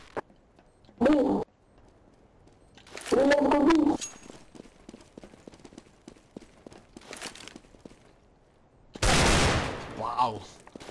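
Counter-Strike: Global Offensive gunfire on the Nuke map comes in several short loud bursts separated by quiet gaps, with faint footsteps and clicks in between.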